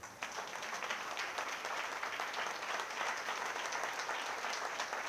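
A church congregation claps steadily and fairly evenly throughout during a Sunday sermon, heard from a distance, with no voices over it.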